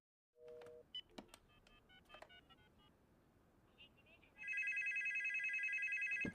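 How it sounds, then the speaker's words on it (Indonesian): A telephone keeps ringing, its loud, steady electronic ring tone filling the last two seconds after a scatter of short beeps and clicks. "telepon itu kembali berdering"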